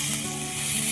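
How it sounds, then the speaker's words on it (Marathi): Chivai leaves sautéing in hot oil tempering, giving a steady, close sizzle with a fine crackle that holds evenly for the whole moment, with no one speaking. "मस्त तेलात परतून घेऊ चिवईची भाजी"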